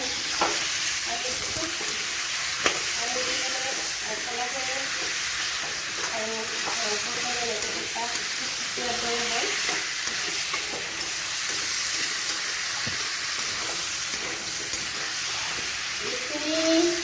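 Meat for a curry fries in a pan with a constant loud sizzle and hiss, broken by occasional scrapes of stirring, while a voice talks faintly beneath it.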